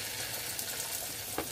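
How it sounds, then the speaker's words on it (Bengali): Onions fry in a pan with a dense, continuous sizzle at an even level, broken near the end by a single soft tap of a utensil. "পেঁয়াজটা একটু ভাজা ভাজা করে নিতে হবে।"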